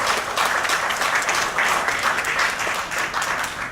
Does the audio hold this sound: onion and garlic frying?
no